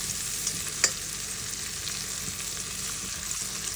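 Mushrooms frying in a pan on a camp stove during a fly fishing trip, a steady close sizzle and crackle with a couple of faint clinks of a utensil stirring.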